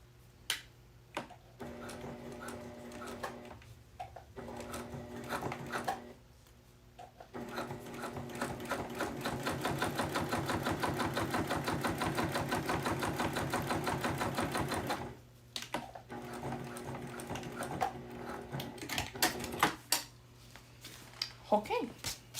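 A sewing machine set to a 7mm stitch length stitches a slip pocket on a bag, with bursts of rapid mechanical needle clatter separated by pauses. The longest run is in the middle, and a person speaks in the gaps.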